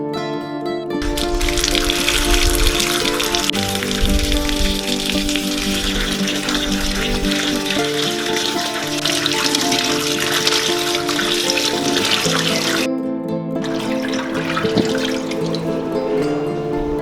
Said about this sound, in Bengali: সবকটা চাল কুমড়োর টুকরোগুলোকে চিড়ে নেওয়ার পরে এগুলোকে জল দিয়ে ভালো করে ধুয়ে নেব